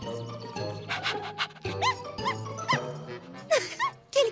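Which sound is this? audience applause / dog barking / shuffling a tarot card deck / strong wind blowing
dog barking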